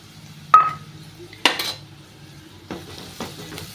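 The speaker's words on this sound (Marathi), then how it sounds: "दोन मिनटं आपण हे वाटण देखील परतून घेऊया" A ground paste of ginger, coconut and garlic hits a pan of lightly fried onion for mixed-dal amti, a few sharp metallic clinks of a spoon against the pan over a soft, intermittent sizzle.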